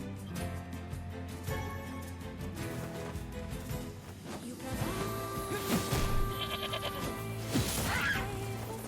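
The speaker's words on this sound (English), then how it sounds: "Those are goats." Goats bleating in the video game NieR Replicant, several wavering cries rising over a layered game soundtrack with a crashing impact partway through.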